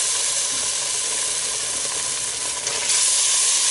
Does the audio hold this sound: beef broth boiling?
yes